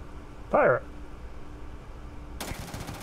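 Starfield gameplay with a new gun firing a quick burst of rapid automatic shots near the end, preceded by a short voice exclamation over low game ambience.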